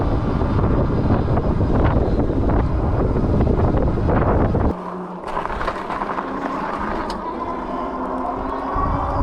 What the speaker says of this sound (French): j'ai un vent de face assez violent